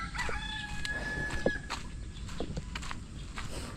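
A rooster crows repeatedly on a rural Philippine homestead, with hens clucking around it. The calls are moderately close and cut through a steady outdoor background.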